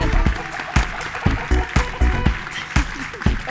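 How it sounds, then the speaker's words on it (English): Applause from an award-show audience welcoming the judges to the stage at A MAZE. Berlin 2023, heard as a steady crowd clapping with sharp, rhythmic claps standing out near the front, and no one speaking. "And can we give them a round of applause?"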